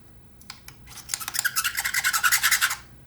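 A knife blade scrapes along the metal slider of a pair of Bluedio T4s headphones, giving a run of quick, close rasping strokes that grow louder and more regular toward the end.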